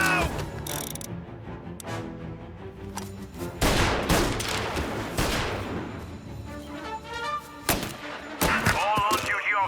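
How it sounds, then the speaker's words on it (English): Gunfire in the Mafia Definitive Edition video game: a rapid fusillade of loud shots bursts repeatedly over about ten seconds, mixed with clanking mechanisms and game effects. "All on-duty officers, gunshots being reported."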